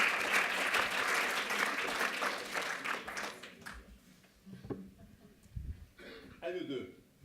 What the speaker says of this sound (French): Jean-Denis Bailly, que nous accueillons sous vos applaudissements.